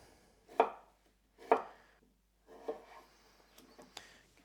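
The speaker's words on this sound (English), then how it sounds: "So I'll just cut these into wedge shapes." A knife cuts potatoes into wedges on a board, giving several separate crisp chops with pauses between them, close and fairly quiet, and no one speaking.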